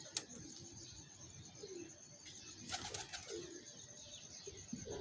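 Pigeons flap their wings close by, with several bursts of beating wings over a steady outdoor hum and a few faint chirps, and no talk.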